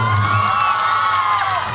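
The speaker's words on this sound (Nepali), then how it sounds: "मन पर सबैको ताली बज्छ" An audience at a live Nepali song performance cheers and shouts loudly in a continuous crowd roar, with whoops rising over the noise.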